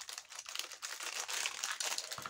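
Crinkly plastic packaging around a roll of stickers crackles and rustles continuously for a couple of seconds as it is pulled open close by, with no talking.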